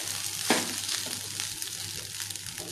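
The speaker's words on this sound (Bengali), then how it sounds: "তো আরেকটু ভালো করে ভাজা হবে" Food fries gently over a low flame in a pan, a soft continuous sizzle with one sharp scrape of stirring near the start, close and with no talking.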